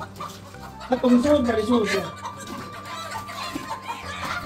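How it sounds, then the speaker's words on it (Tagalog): Chickens in rural Korea squawk and cluck loudly for a couple of seconds, with a voice talking over the birds and steady background noise throughout. "Sumisigaw ang manok."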